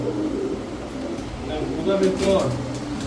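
Pigeons at a pigeon market coo softly in low, throaty murmurs, mixed with people talking nearby and a steady background hum.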